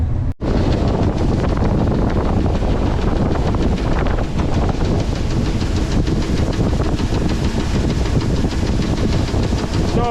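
A combine harvesting oats roars loud and steady, with heavy wind buffeting the microphone throughout and no clear talk.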